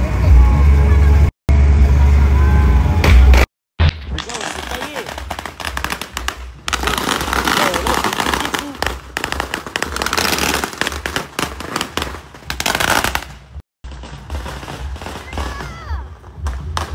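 Firecrackers go off in a street, sharp loud bangs and crackles bursting in irregular clusters amid traffic noise and people talking nearby.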